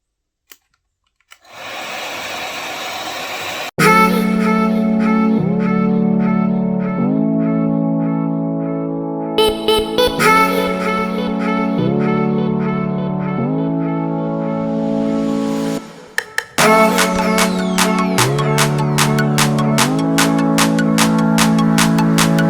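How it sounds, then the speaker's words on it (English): A loud blow dryer roars steadily drying braided hair under a cap, switching on after a quiet start and changing speed or pitch several times, with a few clicks between settings. "I'm going to be using a blow dryer along with this cap."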